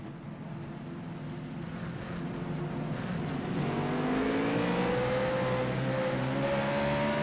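A race car engine heard from on board during a restart at Chicagoland Speedway in a Sprint Cup Series sim race, droning steadily then climbing in pitch as it accelerates, loud and close with no talk.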